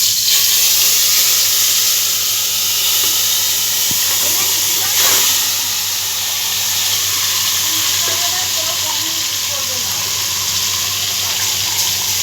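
Meat dropped into hot oil with fried onions for chicken biryani, giving a loud, steady hiss and sizzle that runs the whole time, with faint clatter and soft voices underneath.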